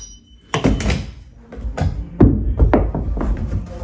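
A door being lifted off its hinges during home renovation work, heard as several loud wooden thunks and knocks spaced irregularly, close by with no talking.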